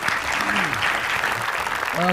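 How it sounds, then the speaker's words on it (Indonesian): An audience claps for a taxi driver at a talk-show style event, a brief steady burst of applause with voices mixed in underneath. "kasih tepuk tangan buat Pak Tarnedi"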